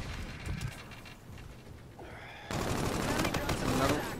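Gunfire in Call of Duty: Infinite Warfare, scattered shots early, then a loud, continuous automatic burst filling the second half, close and dense.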